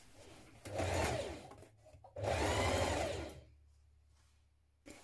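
Two short bursts of a sewing machine stitching along the upper edge of a jeans waistband, each a close whirring run of about a second, separated by a pause and followed by quiet.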